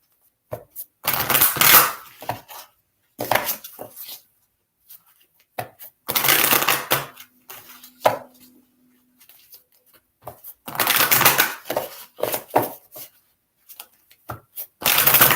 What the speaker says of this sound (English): I'm going to shuffle it and pull a couple oracle cards for you.